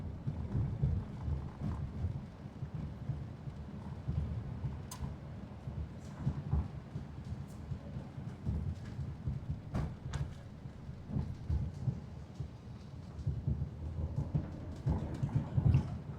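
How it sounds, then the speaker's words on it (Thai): Heavy rain pours steadily with occasional thunder cracks and rumbles, a dense continuous wash of noise heard alone without talk for the whole stretch. "ฝนตกหนักไปแล้วแน่เลยเนี่ย"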